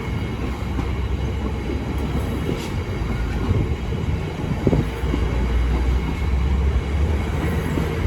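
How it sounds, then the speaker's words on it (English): East Midlands Railway Class 158 unit 158866 pulls away from Peterborough on the Nottingham to Norwich service, a steady low diesel rumble with rolling wheel noise, loud and close, with no voices. "And 158866 is also departing the 1244 East Midlands Railway service from Nottingham to Norwich."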